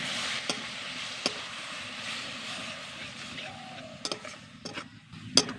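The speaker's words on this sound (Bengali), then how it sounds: "এবার নারকেল কোড়ার মধ্যে আমি গুড় দিয়ে দিচ্ছি গুড় দিয়ে পুরটাকে বানিয়ে নেবো ভালো করে মিশিয়ে নেব" Grated coconut and jaggery filling stirred together in a pan for puli pitha, a soft scraping swish under steady background hiss, with a few sharp utensil clicks toward the end.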